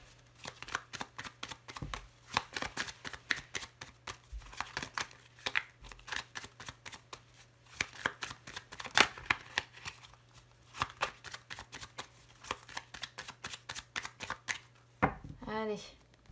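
Tarot cards are shuffled by hand in repeated quick riffling bursts, close and crisp, with short pauses between passes and a brief soft voice near the end.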